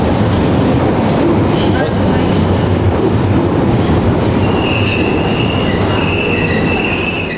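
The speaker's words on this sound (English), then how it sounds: "Piccadilly line's got to be the slowest line on the Underground" A London Underground Piccadilly line 1973 stock train running, loud and close from inside the car: a steady roar and rumble of wheels on track with rising metallic squeals and whine throughout, no voices.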